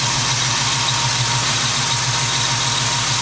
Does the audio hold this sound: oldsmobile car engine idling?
yes